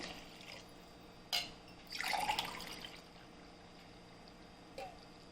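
A glassful of water tipped onto rice in a cooking pot for mint rice, one brief splashing pour with a couple of small drips around it, faint and near.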